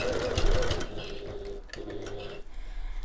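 A home sewing machine runs a 1/4 inch seam on a bag, back stitching at the start and end. Its motor whirs in short bursts at close range, and there are brief pauses and changes in pace between runs.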